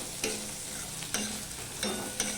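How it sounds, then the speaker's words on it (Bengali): Chopped tomato frying in hot oil with fried onion paste while cooking pomfret fish, a steady close sizzle broken by four regular scraping stirs of a spatula against the pan. "এবার দিয়ে দিচ্ছি টমেটো কুচি"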